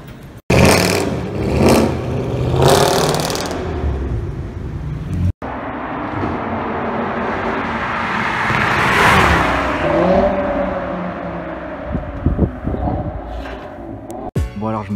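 A Ford GT accelerates past, its engine surging loud and close for several seconds before fading, while people talk and shout over it.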